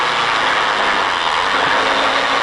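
A stock car engine on a driving experience run holds at about 2,000 RPM, a loud, steady, close mechanical drone with a faint ratcheting texture and no clear change in pitch.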